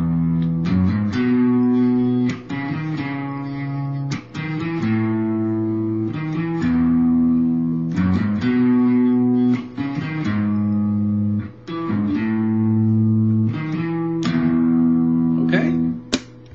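Electric guitar plays a recognizable section of a song, a repeating arpeggiated pattern of picked notes cycling through chords in a steady rhythm, close and clear without talk.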